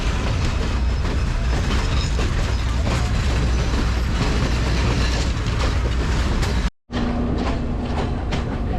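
The Ella ODC tourist train rolls along the Sri Lanka main line through tea country, with a steady loud rumble and rhythmic clatter of wheels on rails. A brief dropout breaks the sound near the end.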